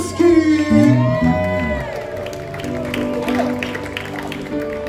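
A festival crowd at an open-air theatre in Vondelpark cheers, whoops and claps for a performer with his band, loud shouting voices over a bed of applause, with a sustained tonal hum beneath.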